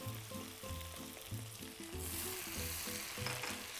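Garlic and chopped pickled chilies stir-fried in a wok while cooking Xinjiang-style fried rice noodles give a steady, close sizzle that swells louder midway, with tonal background music running throughout.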